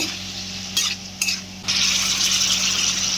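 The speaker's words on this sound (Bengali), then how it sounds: "ভালো করে এগুলো সব মশলার সাথে ফুলকপি আর আলুটাকে একটু কষিয়ে নেব" Fried cauliflower and boiled potato are sautéed with spices, the close, loud sizzle briefly interrupted by stirring scrapes before swelling into a steady hiss.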